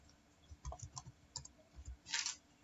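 Light typing on a computer keyboard during PHP coding, a scattering of soft, quiet key clicks in an irregular rhythm with no talking.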